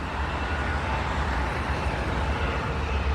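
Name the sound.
jet aircraft approaching at Midway international airport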